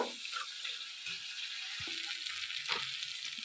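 Spices sizzling as they fry in a pan for a homemade cabbage and paneer vegetarian curry, a steady hiss throughout with a few faint stirring clinks, no talking.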